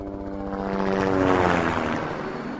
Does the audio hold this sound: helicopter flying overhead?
yes